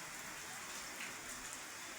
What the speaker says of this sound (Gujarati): 5 દી થયા જો વરસાદ પડે છે